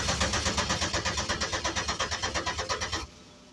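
Starter motor cranks a turbocharged V6 swapped into a Geo Metro, the rhythmic whirring pulses of the engine turning over repeating steadily for about three seconds without catching, loud and close, then cutting off.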